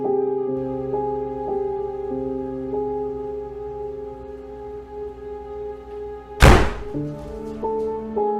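Quiet tonal background, then one sharp door slam lands as a loud, close thud, followed by faint ringing tones.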